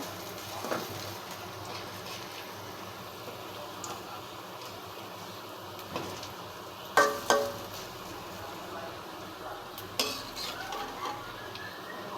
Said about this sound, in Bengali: এখন এটা আমি উল্টিয়ে নিব উল্টিয়ে পাল্টিয়ে ভেজে নিব